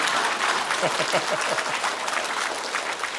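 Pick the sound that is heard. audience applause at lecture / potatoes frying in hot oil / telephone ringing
audience applause at lecture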